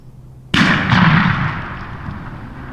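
A single loud shotgun blast during a fall turkey hunt in Minnesota, a sharp near report followed by a long rumbling outdoor echo that fades slowly.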